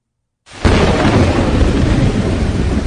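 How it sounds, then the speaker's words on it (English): A thunderstorm effect in an audiobook, a sudden loud crack of thunder after a moment of silence that rolls on into a dense, sustained rumble with rain-like hiss, unbroken by any voice. "A dark and stormy night."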